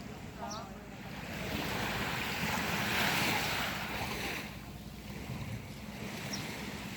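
Sea waves washing onto the shore on an early morning: a broad, continuous roar of surf that swells and eases, mixed with wind rumbling on the microphone, steady and fairly loud with no clear speech.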